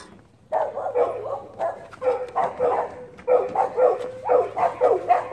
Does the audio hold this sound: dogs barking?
yes